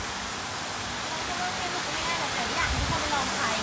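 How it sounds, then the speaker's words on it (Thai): A waterfall turned on at a scenic viewpoint gives a steady, even rushing roar that fills the whole clip without a break. "เขาเปิดน้ำตกแล้วครับ"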